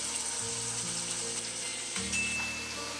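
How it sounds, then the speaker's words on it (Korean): Thin-sliced pork belly cooking in a dry pan over low heat, a soft faint sizzle under a steady electrical hum and tonal background noise, brief and without talk. "팬에 약불로 기름 없이 대패 삼겹살을 넣어주세요"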